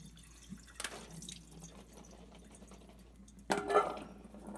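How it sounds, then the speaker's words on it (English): Soaked garbanzo beans drained at a sink, with a soft splash, a few drips and then a louder watery pour, heard close by with no talk. "we're going to go ahead and drain those"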